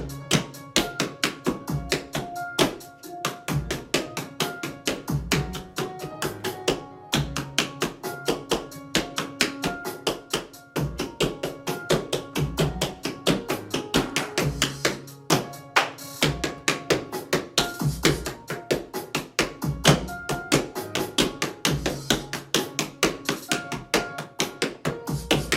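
Rapid tap shoes strike a hard floor in a beginner tap dance routine to a song, sharp clicks in quick steady rhythm throughout, close and loud with no talking.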